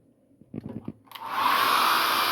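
A hair dryer switches on after a few soft clicks and blows in a loud, steady whoosh to dry a watercolor still-life painting of fruit.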